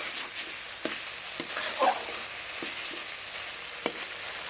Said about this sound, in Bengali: মশলাটা আমার ভাজা হয়ে যাচ্ছে।